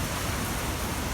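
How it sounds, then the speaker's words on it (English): Heavy Hurricane Ida rain driven by wind across the hood of a van, a dense, steady, loud roar of water with no breaks. "You can kind of see almost like a wind tunnel the way the rain's going over the hood of the van right here."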